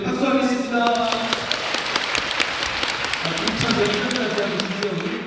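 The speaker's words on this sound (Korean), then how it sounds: "우리 박수하겠습니다" A Korean church congregation claps together during a Bible-reading session, a steady, lively burst of applause with music or voices mixed in beneath it.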